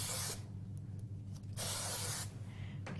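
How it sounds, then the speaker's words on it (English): Spray glue hisses from an aerosol can onto a metal craft die, two sustained bursts close to the mic, separated by a short pause and followed by a quiet, nearly silent room. "I'm going to spray the whole entire die with spray glue"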